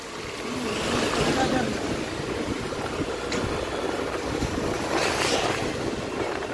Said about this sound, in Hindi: वाह ये देखो यार सस्ता झरना।